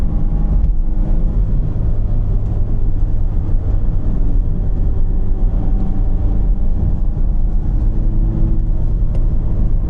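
A Mazda Miata ND3 sports car's exhaust drones steadily while driving, heard as a continuous low rumble mixed with wind and road noise, with no talk.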